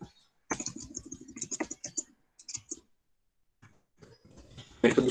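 Keys on a computer keyboard clatter in quick bursts, first a dense run, then a few scattered taps after a pause, ending in louder clicks close by.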